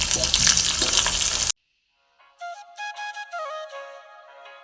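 Raisins fry in a pan for Onam palada pradhaman payasam, giving a loud, steady sizzle for about a second and a half before cutting to silence and then softer tonal sounds.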